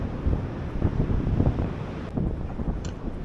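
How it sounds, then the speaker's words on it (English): Strong wind on a beach on the Causeway coast in Northern Ireland buffets the microphone in a continuous dense roar, with no voices over it. "It's very windy here."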